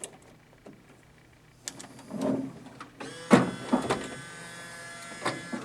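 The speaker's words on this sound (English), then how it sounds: "when you power up, you'll hear the dollar bill acceptor will also kind of like power itself up" An MP161 machine powers up with a soft electrical whir, then a dollar bill acceptor starts with mechanical motor whirs and clunks, a rising hum layering underneath, close and fairly quiet.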